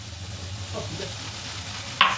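Chopped tomato drops onto browned onion in a hot pan, a low steady sizzle and soft stirring capped by a brief sharp clatter near the end.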